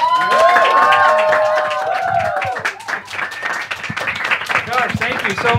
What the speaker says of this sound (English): please just keep giving another big round of applause